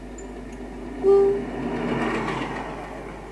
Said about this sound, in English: Here are some scenes days before the event of LRL and Rydal Rail locomotives heading towards Hestercombe for the event.